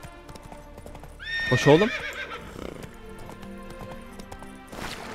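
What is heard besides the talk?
horse Roach trotting and neighing, from a video game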